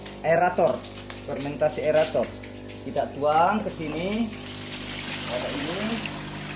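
Aerated fermentation liquid for a biofloc fish pond splashes and trickles as it is poured into a container. Someone talks over the first part, then the pouring continues alone as a soft, steady wash.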